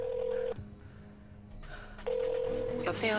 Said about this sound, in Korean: 자신이 직접 전화를 걸어 강 회장에게 여자임을 확인시켜